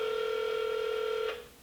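Telephone call in progress with a steady ringback tone, two sustained tones held evenly and loud, then cutting off as the ring ends; no talking.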